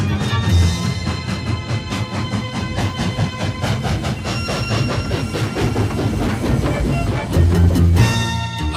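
Heber Creeper steam locomotive No. 618 rolling along a scenic mountain railroad near Provo Canyon and Deer Creek Reservoir, with steady rhythmic clatter of wheels over rail joints, continuous and fairly loud, with a tonal whistle-like hum running throughout.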